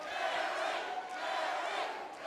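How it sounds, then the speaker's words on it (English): A roaring arena crowd at an MMA fight chants and shouts together, a dense, sustained wall of voices at moderate distance. "Listen to this crowd."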